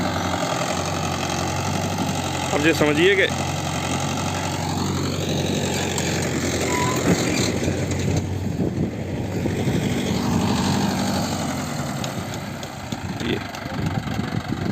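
A Mahindra 575 4x4 tractor engine idles steadily throughout with a continuous low mechanical rumble, while someone talks over it.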